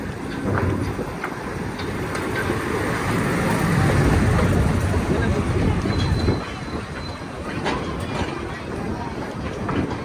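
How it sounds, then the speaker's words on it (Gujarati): A train rolls in and arrives on a windy, rainy day, its broad rumble and wheel clatter steady and close, easing slightly partway through, with faint voices underneath. "કારણ કે મિત્રો થાય છે મોડું એટલે ટ્રેન આવી મિત્રો"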